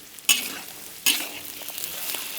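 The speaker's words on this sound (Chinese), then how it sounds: "炒肥肠，下肥肠， 把肥肠煸干" Pork intestines sizzle and hiss in a hot wok, with two sharp bursts as they're tossed, then steady frying crackle.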